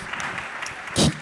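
A short burst of audience applause at a festival gathering, rising suddenly near the end and fading quickly.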